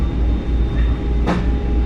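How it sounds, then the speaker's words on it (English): Steady low rumble of a commuter train heading into Penn Station, heard from on board, with a brief hiss partway through and no talk. "I'm on the train right now. Going to the city."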